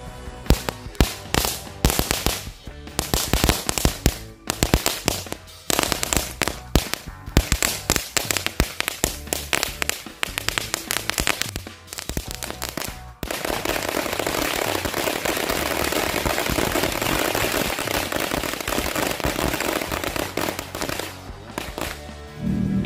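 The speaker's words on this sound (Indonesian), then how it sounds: "yang pertama kita nyalakan 4 gepok mercon korek sekaligus" Rapid, crackling bursts of four bundles of small match firecrackers lit at once, popping densely for several seconds, then a continuous roaring crackle, loud and close.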